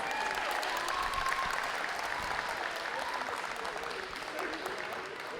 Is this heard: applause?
yes